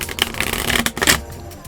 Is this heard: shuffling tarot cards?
yes